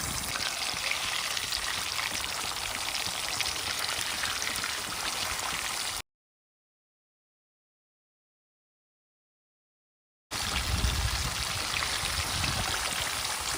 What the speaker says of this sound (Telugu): చేప ముక్కలు అనేది ఇరువైపులా బాగా వేయించుకోవాలి